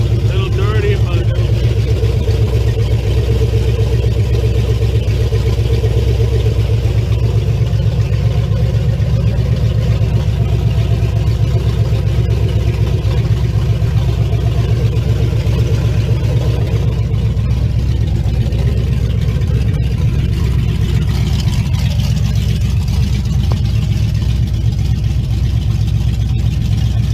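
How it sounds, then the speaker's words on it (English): Ozzy's dusty pickup truck idles close by with a loud, constant low rumble that holds without a break for the whole stretch. "That's Ozzy's truck running."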